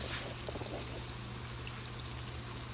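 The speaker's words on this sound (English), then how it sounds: "They're bubbling." Squash frying in hot oil on a stove, a steady broadband sizzle and crackle of bubbling oil that runs unbroken and fairly close throughout, with a low hum beneath and no talking.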